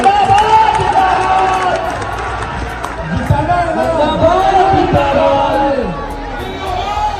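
A huge crowd of supporters swarms a Tejashwi political rally in Bihar, a dense, loud roar of chatter and cheering with scattered shouts, steady and close throughout.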